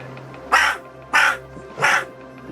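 A young pet crow named Snippy gives three harsh, evenly spaced caws, close and clear over quiet room hum.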